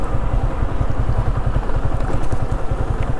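Motorcycle engine idling loudly up close while the bike is parked at a food fair, its rapid, even low putter thumping continuously.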